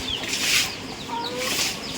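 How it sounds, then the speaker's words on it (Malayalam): Country chickens and laying hens on a farm cluck in two soft bursts, moderately close, with no talking. "എനിക്ക് കുറച്ച് നാടൻ കോഴിയുണ്ട് മുട്ടക്കോഴിയുണ്ട്"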